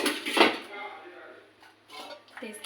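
A metal kadai and utensils clattering in a kitchen, with a couple of close, bright knocks and scrapes separated by a quiet gap, mixed with some voice.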